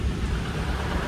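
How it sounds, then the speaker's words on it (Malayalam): Heavy rain in the mountains of Uttarakhand near Uttarkashi, a dense steady roar of downpour with deep rumbling, continuous and close, with no voices. "നല്ല മഴയാട്ടോ"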